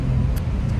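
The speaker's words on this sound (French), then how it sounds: "il y avait une voiture derrière." A single car on a city road in Tirana, Albania, droning as a steady low engine and tyre rumble throughout, fairly close and continuous, with no voices.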